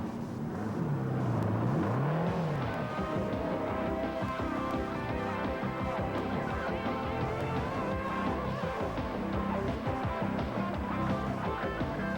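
Pulse 1200cc three-wheeled vehicle from 1988 pulling away for a drive, a loud, close engine whine rising and rolling on steadily with a brief pitch sweep near the start.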